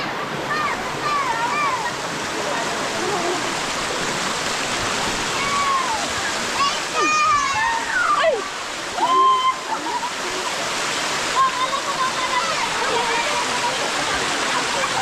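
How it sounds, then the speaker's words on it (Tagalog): Steady, loud roar of a waterfall rushing without a break, with a few whistled or squeaky tones and people talking faintly over it. "Ito na yung falls."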